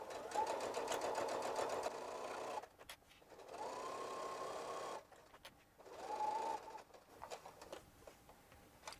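A sewing machine stitches across a zipper pouch in three steady motor runs of a few seconds each, separated by brief pauses, with light clicks between bursts.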